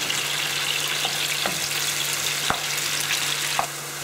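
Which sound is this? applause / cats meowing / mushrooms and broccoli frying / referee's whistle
mushrooms and broccoli frying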